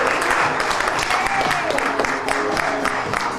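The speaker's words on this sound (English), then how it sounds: "Please give Sherise a round of applause." An audience gives a round of applause for Sherise Patterson of Simply to Empower at a business networking event. The clapping is dense and steady for the whole stretch, with faint voices and a brief tone mixed in.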